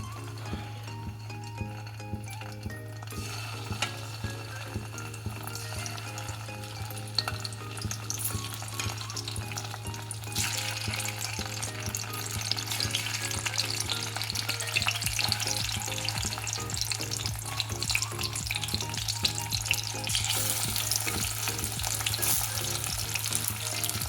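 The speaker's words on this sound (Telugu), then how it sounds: "ఇవి వంకాయలు ఫ్రై అవుతుందండి" Brinjals fry in hot oil for a spicy brinjal onion dish, giving a steady, loud sizzle throughout with occasional stirring clinks, growing slightly louder in the second half, with no voices.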